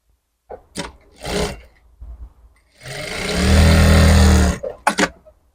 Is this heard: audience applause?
no